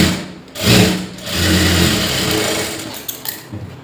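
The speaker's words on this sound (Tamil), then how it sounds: "இன்னொரு தையல் வந்து இப்படி நல்ல பக்கத்துக்கு மேலே இப்படி இன்னொரு தையல் கொடுத்துடலாம்" Sewing machine stitching a lined blouse, running in short bursts with pauses between runs, close and steady with a mechanical hum.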